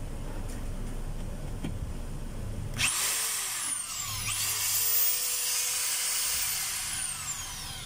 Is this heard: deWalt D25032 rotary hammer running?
yes